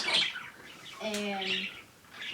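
Pet budgerigars in a cage give a few bright, quick chirps spread across a couple of seconds, with a sustained tonal call in the middle at moderate loudness.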